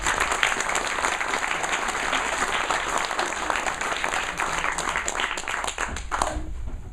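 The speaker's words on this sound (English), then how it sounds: "Please give you a round of applause for Bob." Sustained audience applause for poet Bob Mitchell at a Scottish evening of entertainment, dense steady clapping from a crowd that holds at even loudness before thinning slightly at the end.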